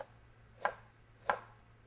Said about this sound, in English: use a sharp knife, use the edge of the knife, come straight down, be gentle, not a lot of pressure is necessary